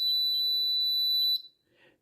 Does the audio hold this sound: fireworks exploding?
no